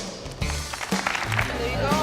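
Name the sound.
round of applause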